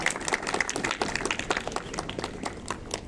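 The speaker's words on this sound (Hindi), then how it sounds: "जोरदार तालियों से इनका स्वागत करें।" A crowd applauds with brisk, dense clapping at a school annual sports meet in Rampur Bushahr, Himachal Pradesh, steady and fairly close, with scattered sharper claps standing out.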